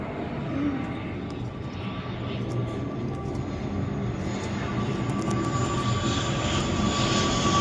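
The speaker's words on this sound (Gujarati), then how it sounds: "ચેલેન્જ કરતા કરતા ઉપર વિમાન આવી ગઈ છે." An airplane passes overhead outdoors, its steady broadband engine roar swelling slightly and holding for several seconds with no speech.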